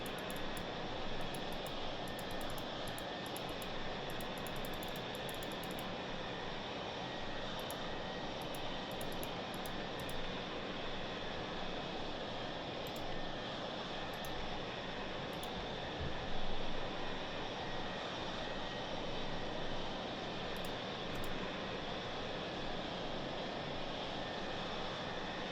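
Steady, loud broadband roar of a Dassault Mirage F1 jet engine in the DCS combat flight simulator, a continuous droning rush that holds level throughout with no voices over it.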